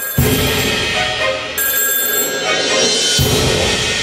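A loud telephone bell rings in repeated bursts, clear and close, with a brief pause in the middle before the ringing resumes.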